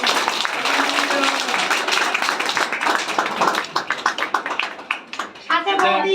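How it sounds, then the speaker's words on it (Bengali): Audience at a Happy New Year celebration and inauguration claps in a dense, loud burst of many hands, thinning out toward the end as voices come through. "সবাই হাততালি জোরে।"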